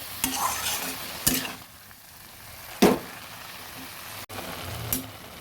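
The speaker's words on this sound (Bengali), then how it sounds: "সবগুলো ডাটা শাক আলু সব সর্ষের সঙ্গে মিশিয়ে দিয়েছি" Gourd leaf greens and potato with ground mustard paste and a little water are stirred in a pan, producing scraping strokes at a slow, uneven rhythm over a soft sizzle, close and moderately loud.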